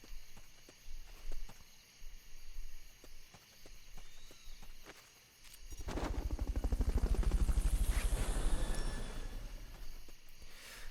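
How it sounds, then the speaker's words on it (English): The Fulton recovery helicopter in Metal Gear Solid: Peace Walker arrives as a roaring rotor wash that swells from about halfway through and stays loud and close, after a stretch of lighter scattered thumps. "Fulton recovery helicopter is complete."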